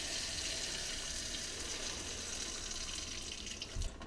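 A faucet below an upstairs bathroom is turned on with the water supply shut off, so the line drains. Water rushes in a steady, even hiss for several seconds.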